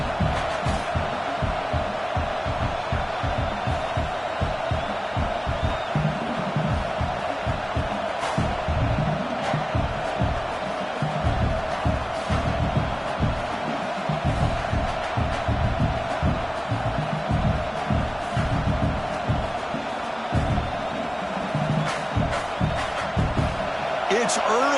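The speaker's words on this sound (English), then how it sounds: "It's early, but this crowd is fired up. Listen to this noise here." Football stadium crowd during Memphis at Nebraska roars and cheers loudly and continuously, a dense wall of noise with scattered thumps and shouts, under a commentator speaking.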